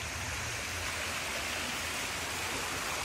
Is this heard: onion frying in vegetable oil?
no